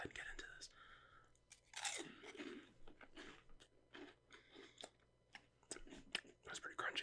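Loud, close crunching and biting of crispy Taco Bell food, with repeated bites and chewing in uneven bursts, alongside soft breathy mouth sounds.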